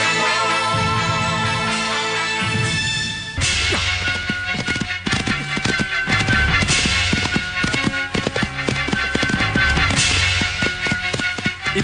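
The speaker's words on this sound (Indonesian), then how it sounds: "Itu kuda mereka." Horses approach with a steady, loud clip-clop of hooves that starts after a few seconds and keeps up a brisk, overlapping rhythm close by, with no voices.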